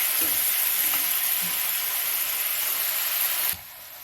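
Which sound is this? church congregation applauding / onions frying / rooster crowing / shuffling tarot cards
onions frying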